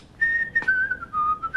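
The harbor master's whistle sounds once as a steady, clear, fairly loud tone that dips slightly in pitch and wavers, lasting over a second on its own.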